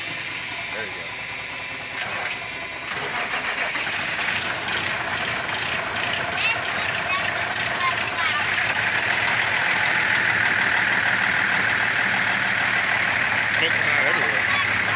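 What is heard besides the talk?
Cummins big cam diesel engine cold starting and idling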